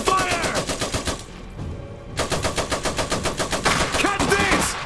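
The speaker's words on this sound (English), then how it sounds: "we're taking fire!" Sustained machine-gun fire rattles in fast, steady bursts during a stronghold siege battle in the Iron Harvest strategy game, loud and dense with a brief lull before the firing resumes.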